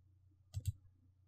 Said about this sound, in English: You can also change the file type by clicking on the drop-down box next to Save as File Type.